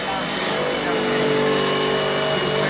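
A power drill boring holes through thick metal, a loud, steady whine running without pause, up close.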